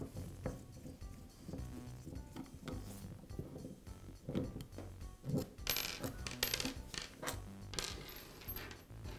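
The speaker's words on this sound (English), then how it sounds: "I'll start by removing the 4 screws near the primer bulb." Small metal screws being removed from an Echo backpack blower carburetor near the primer bulb, with faint clicks, taps and light metallic clinks scattered across the clip, close and quiet.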